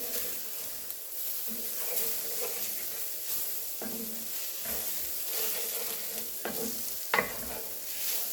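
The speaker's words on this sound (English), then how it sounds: "And we're just going to stir this up. Cook that flour. And scrape in the bottom of your pan." A tablespoon and a half of flour stirred and cooked in a pan for beef tips gravy gives a steady frying sizzle, with scraping and stirring strokes across the pan bottom and no talking.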